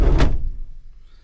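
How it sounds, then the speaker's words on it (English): A Suzuki Carry van door swung shut on a rainy day, one close solid thunk that dies away quickly into quiet. "let's shut the door"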